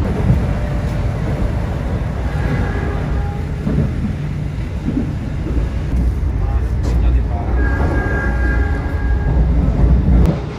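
Baturaden Express passenger train travelling through Indonesian countryside, a steady loud rumble of wheels and carriage noise running throughout, with faint higher squeals and rattles near and under a constant low roar.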